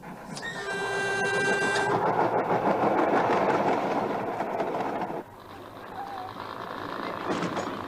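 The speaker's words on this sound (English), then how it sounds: "This is the sort of train that the new tram will replace." A passenger train on Tyneside rolls past close by, a loud rumbling and clattering run that drops off suddenly partway, with a brief whistle-like tone over the fading rail noise.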